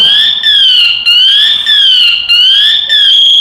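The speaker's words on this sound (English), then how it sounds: "I'm activating my pass alarm." A firefighter's PASS alarm sounds: a loud electronic tone warbling up and down continuously in a wavering two-tone pattern, shrill and close, with no talk.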